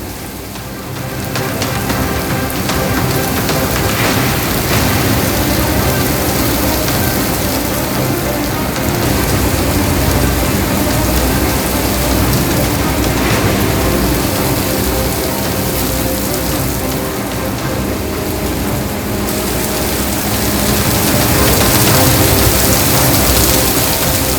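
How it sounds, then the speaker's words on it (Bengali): A heavy thunderstorm pours over Kolkata with frequent lightning, a loud, dense, unbroken roar of downpour that continues throughout with no voices. "তুমুল ঝড় বৃষ্টি গোটা কলকাতা জুড়ে এবং সঙ্গে সঙ্গে ঘন ঘন বজ্রপাত"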